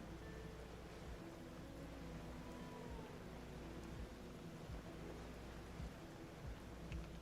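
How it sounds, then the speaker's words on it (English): Rain in the video game Genshin Impact falls as a soft, steady patter with low rumbling thuds and faint game tones underneath, no speech. "It's raining again."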